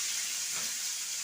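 Curry leaves dropped into hot oil for an egg curry, giving a loud, even hiss of sizzling that holds steady without a break.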